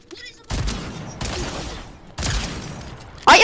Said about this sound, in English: I am using a grey shotgun,